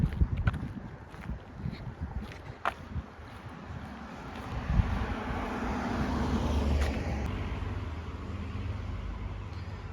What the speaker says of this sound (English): I'm on a very busy road